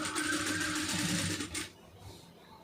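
A sewing machine runs steadily while stitching piping into folded fabric, a continuous close mechanical whir that stops after about a second and a half, leaving quiet room noise.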